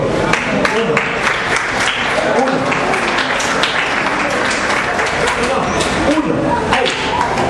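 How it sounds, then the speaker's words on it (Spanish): Church congregation clapping together during an evangelical service, with loud dense clapping and thuds blended with voices and room noise throughout. "Pero es un aplauso"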